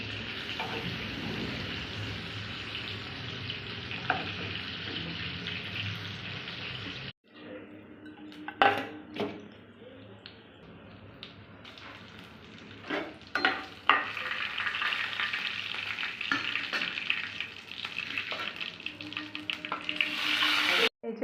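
Spice mix frying in a pan during home cooking, a steady close sizzle and crackle with a brief break partway through, then stirring scrapes and louder bursts as the frying resumes; no talking.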